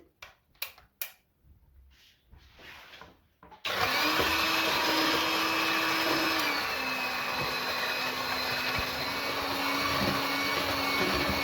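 Moulinex electric hand mixer beating eggs for a cake: a loud, steady high-pitched motor whine starts abruptly after a few seconds of quiet kitchen sounds and runs continuously, close up, with a slight pitch drop partway through.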